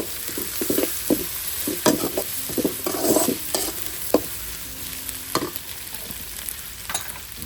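Ginger garlic paste and a little turmeric sizzle in a pan for fried rice while being stirred, with a steady close frying hiss broken by sharp scraping strokes at an uneven rhythm; no talking.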